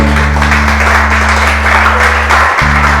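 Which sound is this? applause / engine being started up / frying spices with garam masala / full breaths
applause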